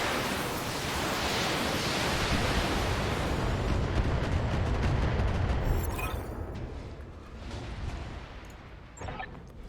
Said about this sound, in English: Fire the missiles.